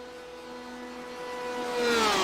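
A race car in a Le Mans racing video game, the Tulip Racing car, drones steadily with a rising engine whine near the end of the Mulsanne straight, building in loudness over about two seconds.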